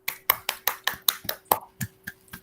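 A classroom group claps together in about a dozen distinct, fairly evenly spaced claps over a couple of seconds, close and crisp, with no talk over it.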